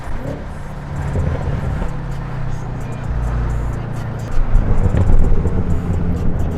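A BMW M car engine rumbles loudly and steadily with a deep exhaust note, swelling louder near the end, its sound echoing off surrounding parked cars in a close, enclosed space.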